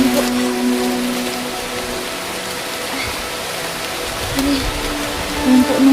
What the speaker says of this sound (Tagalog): mas nakita niyo po na sobrang lakas ng ulan po